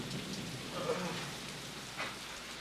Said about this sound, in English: We can't ride him out till the rain stops, Floyd.